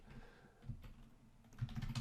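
Keys clatter on a computer keyboard in quick, irregular bursts of soft taps, close and fairly quiet with no talking.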